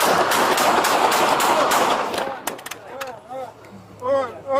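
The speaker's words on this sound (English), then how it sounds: "B41, shots fired." Police fire gunshots at an armed suspect holding a handgun during a Modesto arrest: a quick cluster of sharp, loud shots follows noisy scuffling, and then shouting voices take over.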